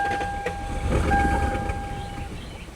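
A Lexus LS400 engine, abandoned for ten years and with clogged injectors, cranks and sputters, catching briefly with a rough, rumbling burst before fading, while a steady high whine runs through most of it.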